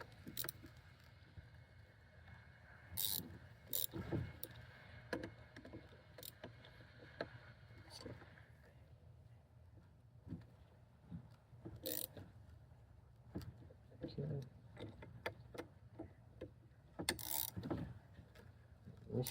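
Fasteners on a 1983 Ford Mustang GT are tightened in a cross pattern by hand with a ratchet, giving irregular clicks, metallic clinks and short ratcheting bursts with pauses between, close by.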